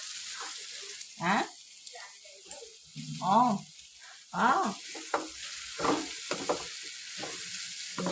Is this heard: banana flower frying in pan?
yes